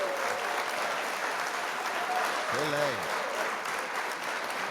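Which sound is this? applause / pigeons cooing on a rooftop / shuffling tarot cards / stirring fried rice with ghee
applause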